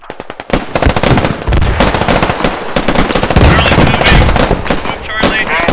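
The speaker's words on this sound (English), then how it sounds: "Guns out. Live fire." Rapid bursts of automatic and single-shot gunfire from a squad's weapons during a live-fire assault drill on a range, loud and near, crackling almost nonstop after a brief quiet start.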